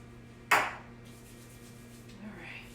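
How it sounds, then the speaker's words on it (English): Pam cooking spray is sprayed onto hands over a kitchen sink in a single short, sharp hiss that fades quickly, leaving a quiet room with a low steady hum. "I'm going to spray a little bit of this Pam on my hands so that the dough doesn't stick to it"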